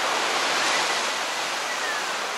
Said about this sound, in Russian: вода минеральная горячая сливается прямо в море